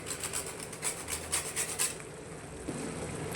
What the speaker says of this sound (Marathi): इथे मी एक जायफळ घेतलाय, त्यातला अर्धा जायफळ आपण याच्यामध्ये किसून टाकणार आहोत.